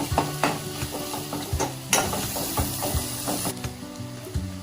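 Onion, ginger and garlic paste sautés in a pan for a sprouted moth bean curry, with frequent rhythmic clinks and scrapes of a spoon against the pan over a low sizzle.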